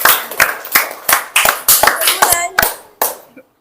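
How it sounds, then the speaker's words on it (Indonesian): A small group of children claps in a classroom, giving uneven, separate hand claps at a fairly steady rhythm for about three seconds before stopping. "Tepuk tangan untuk kelompok jerapah dan untuk Andre."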